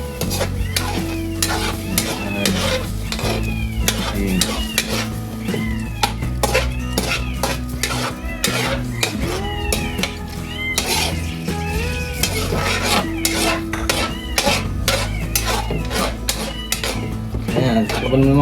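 A spatula or spoon stirs food frying in a pan, giving busy metallic scraping and clinking over a steady sizzle, close up, while people talk intermittently and a cat meows.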